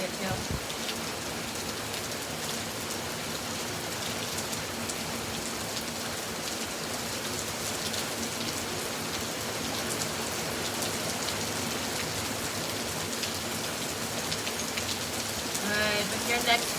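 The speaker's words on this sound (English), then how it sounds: "let yourself listen to the sound of this rain for a couple of moments" Steady rain falling and pattering on surfaces, a dense continuous hiss that stays even throughout, with a soft voice faintly present underneath during a yoga session.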